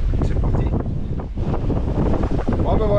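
Strong wind buffets the microphone aboard a sailboat under sail off the Corsican coast between Piana and Girolata, in a 12 to 16 knot breeze, a loud continuous rushing roar with water noise, and a voice briefly audible.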